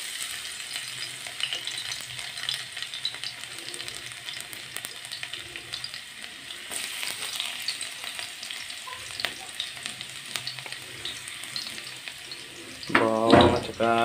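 Garlic fries in a hot wok with a continuous close sizzle and crackle, stirred now and then, ending with a louder burst of spattering.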